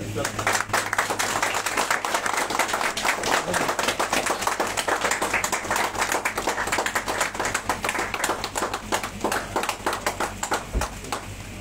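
Clapping and applause at an app launch event, steady dense hand claps running throughout, fairly loud and close, with a low hum and voices mixed in.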